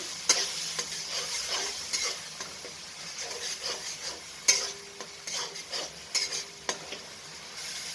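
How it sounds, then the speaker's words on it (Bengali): Fennel paste for a rui fish curry sizzles steadily in a pan while a utensil stirs and scrapes against the metal in repeated close strokes. "এখন দুইটা পেস্ট দিয়ে দিলাম মৌরিটা একটু ভালো করে নাড়াচাড়া করে"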